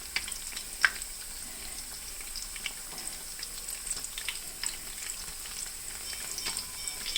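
Onion garelu, lentil fritters, frying in hot oil on a stove, giving a steady soft sizzle with faint crackles and an occasional small pop, heard alone at low level.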